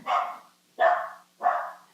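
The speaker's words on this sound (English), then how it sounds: "What's she barking at?" A dog barks three times in a steady rhythm, each bark loud and close with a short tail, no talk over it.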